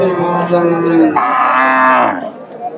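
A cow moos loudly and close by: one long, drawn-out low call that shifts pitch partway through before trailing off.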